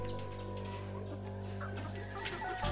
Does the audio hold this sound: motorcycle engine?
no